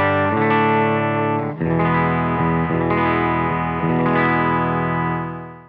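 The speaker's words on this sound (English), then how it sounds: "Silktone amp sounds like this." Electric guitar through a Silktone amp, a rich sustained chord strummed and then changed several times, full and close with a lightly driven, effected tone and no talking.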